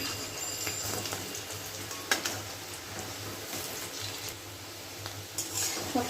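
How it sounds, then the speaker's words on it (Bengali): Egg fritters fry in hot oil with a steady, low sizzle and occasional clinks of a utensil in the pan, heard close with no talking. "সব কটা বড়া লাল লাল করে ভাজা হয়ে গেছে"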